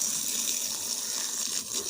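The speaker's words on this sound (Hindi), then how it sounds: "पानी हम इसलिए डालते हैं ताकि ये इसकी जो कूलिंग है वो ख़त्म हो जाए" Water is poured steadily onto burnt rice husk being prepared as fertilizer, making a continuous close gushing splash that runs for about two seconds without talk.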